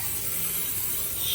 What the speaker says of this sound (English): spraying pretty well all over the surface